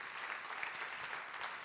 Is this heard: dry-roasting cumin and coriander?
no